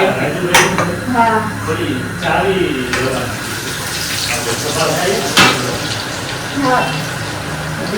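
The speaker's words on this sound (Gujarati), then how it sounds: "તો ચાલો, અહીંયા તળવાની શરૂઆત આપણે થઈ ગઈ છે. તો પહેલા આપણે ગાજર તળી દઈશું." Carrot slices cut thin like chips frying in hot oil in a home kitchen, a steady crackling hiss with a few sharper splutters, loud and close, with faint talk and a little clatter in the background.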